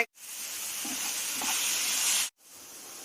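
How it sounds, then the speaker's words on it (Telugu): Onion, ginger and garlic masala paste frying in a pan for chole masala curry, giving a steady, bright sizzle that holds for about two seconds and then cuts off abruptly, with a quieter hiss after. "అదిగోండి ఆనియన్, అల్లం, వెల్లుల్లి మసాలా కొంచెం పేస్ట్ చేసానండి. వేగుతుందండి."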